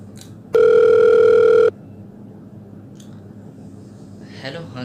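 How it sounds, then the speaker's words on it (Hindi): A telephone dial tone plays steadily for about a second as a phone call is placed, loud and close, followed by quiet room tone and faint clicks. "फोन लगाता हूँ"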